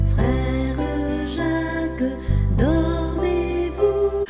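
Frère Jacques (Brother John), the children's song melody, arranged as an orchestral passage within Mahler's Symphony No. 1, sustained tonal music with no speech, played alone.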